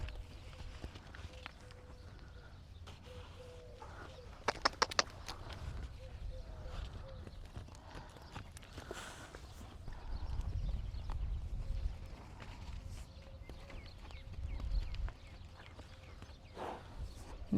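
An Arabian endurance gelding walking during training, its hooves clip-clopping in loose irregular steps with a brief sharp cluster of hits early on, amid outdoor background noise and scattered low sounds.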